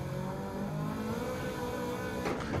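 Race car engine in the video game Gran Turismo 7, a steady revving roar held at high revs, close and continuous, with no talk over it.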